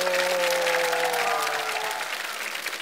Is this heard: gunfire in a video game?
no